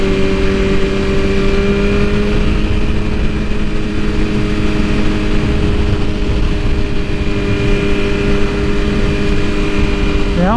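A 2022 BMW S1000RR sport bike fitted with Stage 2 Brentuning, an upgraded air filter and exhaust, rides at steady speed, its engine drone holding near and loud for the whole stretch, blended with wind rush.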